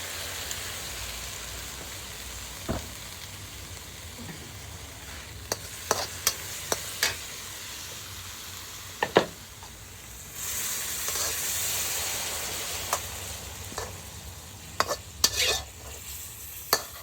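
Fish frying in a pan gives a steady, hissing sizzle that continues throughout, punctuated by sharp pops and clicks of spattering oil, with no talking.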